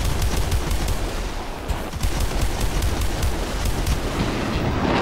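Guns on a French F4U Corsair fighter in War Thunder fire in loud, rapid, sustained bursts, a dense mechanical rattle close up that runs almost without pause.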